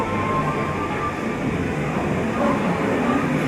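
A train rumbles steadily through a station, a continuous loud low roar with faint tonal hums layered on top and no clear breaks.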